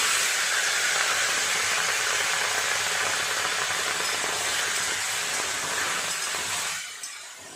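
Chopped tomatoes hit hot oil with panch phoron and sizzle in a loud, steady hiss that holds for several seconds, then quiets abruptly near the end.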